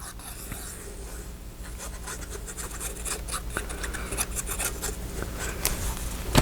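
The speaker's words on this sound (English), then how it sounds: "give it a little bit of a pink rub there, or whatever color you're using" Steady scratchy rubbing of pink colour onto a paper Valentine lantern, a close, continuous dry scraping with small sharper strokes and no talking.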